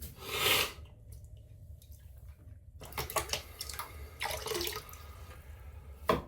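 Water splashes and runs at a bathroom sink while a man wets his face before a shave, bursts of splashing coming close and fairly loud in uneven surges with quieter running water between.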